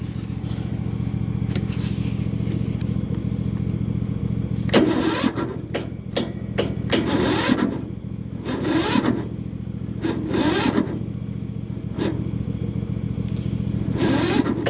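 A Yard Machines lawn mower engine with a suspected bad battery or starter cranks repeatedly in several bursts over a steady low hum but never catches; the starter whirs loud and close, with brief pauses between tries.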